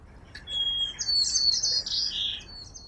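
A sparrow sings a short, bright series of chirps and trills, clear and close over faint background noise.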